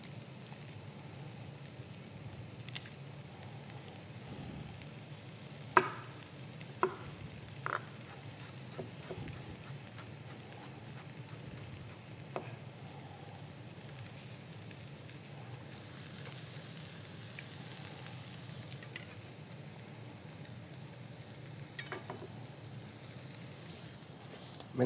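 Garlic and onion frying and being stirred in a pan give a faint, steady sizzle broken by occasional small clicks and pops, with no talking.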